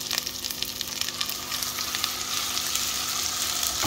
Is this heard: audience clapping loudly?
no